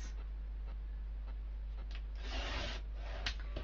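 A paper trimmer slices through card stock with a short, dry scraping rasp that swells near the end, close and quiet, with no talking.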